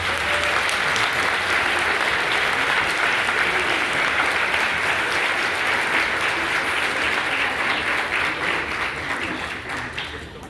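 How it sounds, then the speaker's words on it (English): Large audience at an awards presentation applauding steadily and loudly for about ten seconds, a dense wash of clapping that tapers slightly at the end. "Let's give them all a big round of applause"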